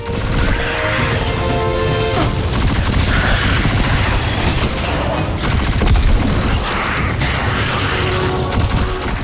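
Weapon gunfire in Destiny 2, dense continuous bursts of shots and crashing impacts, loud and close with sustained rattling texture.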